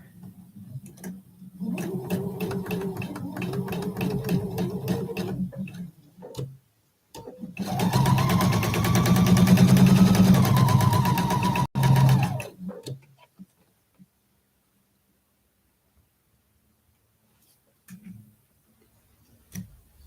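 Sewing machine stitching a quilt block seam in two close, loud bursts of rapid rhythmic whirring, the second longer and stronger, followed by near silence and a couple of faint clicks.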